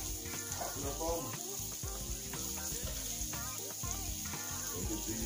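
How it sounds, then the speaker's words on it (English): Sausages browning in a pan of melted butter for a Cajun chicken and sausage pasta, a steady loud sizzle and crackle of frying with scattered pops, while a voice talks over it throughout. "I'm going to get these sausages browned off."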